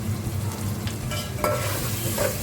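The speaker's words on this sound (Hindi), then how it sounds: "इस तरीके से चम्मच चलाएंगे, इस तरीके से भूनेंगे" Whole coriander seeds roast in a pan, a dry crackling sizzle with a scraping stir of a spoon partway through, up close.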